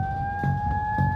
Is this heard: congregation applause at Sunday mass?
no